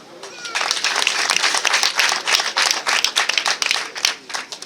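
A wedding-ceremony audience claps together, a dense burst of applause that swells and holds for several seconds. A voice is faintly audible at the start.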